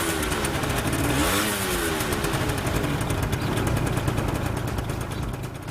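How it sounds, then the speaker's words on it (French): A Peugeot Citystar 50 scooter with a two-stroke engine runs loudly and close, its raspy buzzing note rising briefly as it revs before settling into a steady drone, no talking. "Il faudra attendre de le mettre en marche au démarreur ou au kick pour entendre le crépitement de son moteur 2 temps"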